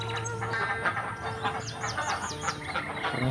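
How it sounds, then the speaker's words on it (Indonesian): Ducks in a pen at a quiet village in Blimbing, Blitar, call with a busy mix of chattering, clucking fowl sounds and short squeaky chirps, fairly close and continuous. "ini adalah kandang bebek ya sahabat"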